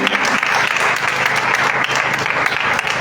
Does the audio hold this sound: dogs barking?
no